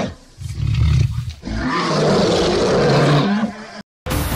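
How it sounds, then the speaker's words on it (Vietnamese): A male lion gives a deep, rumbling roar, sustained for a couple of seconds after a few lower grunts, loud and close with a brief break near the end. "Sư tử đực đứng rống lên vài hồi"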